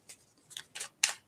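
Tarot cards being shuffled by hand, with a few crisp papery riffles and slaps spaced across a quiet moment, moderately close and fairly soft.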